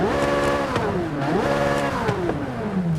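Corvette Z06 engine in the racing game Forza Horizon 5 revving repeatedly, pitch climbing and falling through several blips with crackles between, steady and close with no voices.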